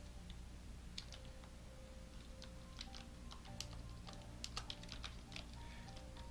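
A computer keyboard clatters as a command is typed: scattered quiet keystrokes at an uneven pace, growing busier toward the end, faint and close with no talking.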